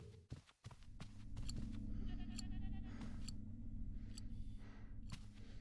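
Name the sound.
goat bleating in a horror video game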